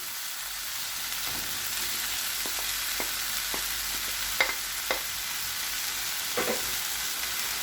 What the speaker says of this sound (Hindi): अब इसमें चिकन डाल देंगे।